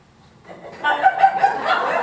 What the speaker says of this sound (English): Your bloody parrot is still here.